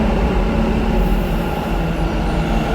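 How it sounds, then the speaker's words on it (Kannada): A metro train runs close by at night, a loud continuous rumble of wheels on rail with a faint squeal, heard alone without any talk. "ಮೆಟ್ರೋ"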